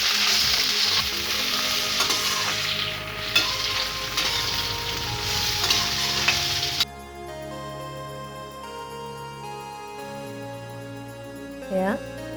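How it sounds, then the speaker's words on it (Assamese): Jujube pickle with jaggery frying and being stirred in a pan, a steady close sizzle with scraping strokes that drops away partway through, leaving quieter background music. "গুড়খিনি দিয়াৰ পিছত আমি আকৌ আগত যেনেকৈ ভাজি আছোঁ তেনেদৰে ভাজিব লাগিব অলপ টাইম"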